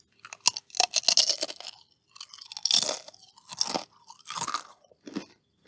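Loud, close crunching of crispy fried tortilla chips being bitten and chewed in several bursts, with short pauses between bites and no talking.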